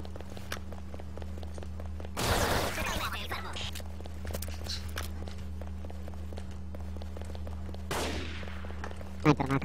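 Gunfire in a tactical shooter game, with sharp shots and a short burst near the start and again later, under steady low game ambience and footstep-like ticks, with players talking over it.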